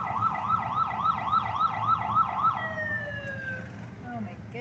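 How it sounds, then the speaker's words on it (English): A wailing fire truck siren cycles rapidly up and down, then shifts to long descending tones as it passes at moderate distance over road noise, at a July 4th parade in Livingston, Montana. "That is the fire truck."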